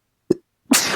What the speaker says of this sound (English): Why did that make me sneeze?